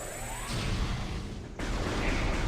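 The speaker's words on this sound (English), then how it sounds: "Just big explosion." A big explosion in the Metroid Prime video game, a loud broadband blast and rumble that carries on without a break, with a sharp fresh burst partway through.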